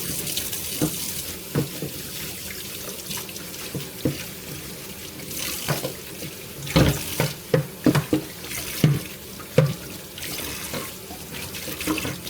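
Water runs steadily from a kitchen tap while a frying pan is scrubbed and rinsed beneath it, with scattered knocks and clanks of the pan against the sink, loudest and most frequent midway through.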